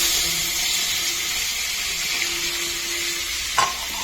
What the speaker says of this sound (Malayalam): ഇനി ഇതിലേക്ക് നമുക്ക് കട്ട് ചെയ്ത് വെച്ച പഴം, നേന്ത്രപ്പഴം ഇതിലിടാം.